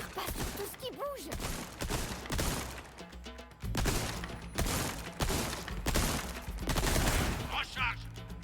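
Bursts of gunfire ring out in the Resident Evil 4 Remake video game, several quick shots and volleys at moderate level, mixed with game sounds and someone talking between them.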